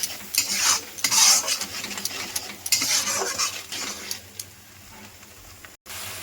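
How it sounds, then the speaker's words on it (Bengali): Turmeric and salt stirred into a spice mixture in a pan, rhythmic scraping strokes with a sizzle underneath and occasional utensil clinks, close up with no voices. "দিয়ে আবারও ভালো করে মশলার সঙ্গে সব শুদ্ধ মিশিয়ে নেব।"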